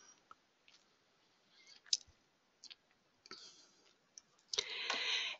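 Sparse, quiet clicks of a computer mouse sound at irregular intervals, single sharp taps close by, followed by a short burst of rustling noise at the end.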